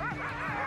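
Sled dogs at a polar expedition start yipping and whining excitedly, a close, dense burst of overlapping high-pitched barks and whimpers.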